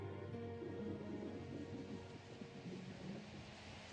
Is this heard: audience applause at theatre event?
no